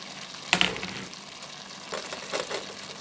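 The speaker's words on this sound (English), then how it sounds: "I'm gonna add the saltfish now because the onion and the tomatoes are cooked" Saltfish hits a pan of cooked onion and tomatoes with a sharp burst of sizzling, then settles into a steady soft fry with a few stirring scrapes, close by.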